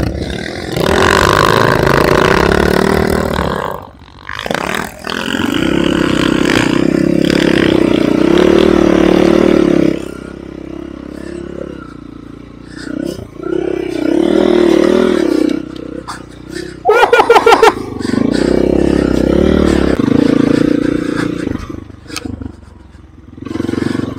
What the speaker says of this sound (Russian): Я знаю, кто это постоянно газует так